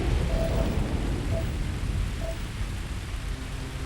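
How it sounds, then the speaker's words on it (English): A storm on a planet in the video game Starfield, steady hissing rain with a low rumbling wash of thunder underneath, dense and continuous without talk. "This place gets stormy,"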